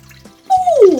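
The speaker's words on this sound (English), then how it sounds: "Pour water." Water is poured in a children's first-words lesson with toy baby ducks, a short bright trickle and splash lasting about half a second and coming in abruptly after a quieter lead-in.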